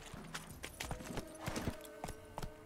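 Geralt's horse Roach trotting in The Witcher 3: Wild Hunt, a run of light, fairly close hoofbeat clops with a quiet game backdrop behind them.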